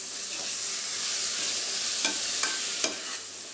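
Cashews and onions sautéing in a pan for prawn biryani, a steady hiss of frying with a few scraping stirs of a spoon near the end, close and without talk.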